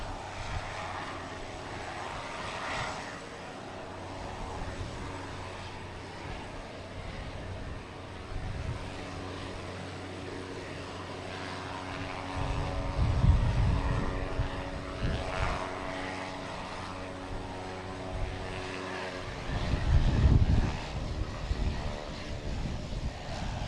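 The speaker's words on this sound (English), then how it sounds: "the sound of the very loud prop Delta plane" A loud Delta propeller plane at Boston Logan Airport on Christmas Eve drones steadily, with a rough engine hum and gusts of wind noise, swelling louder twice as it passes close by.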